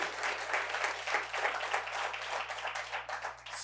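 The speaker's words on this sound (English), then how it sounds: "You can clap, it's fine." Audience applause at a US Department of Transportation EV charging grant announcement, dense and steady clapping from a crowd filling the whole stretch, with no voices.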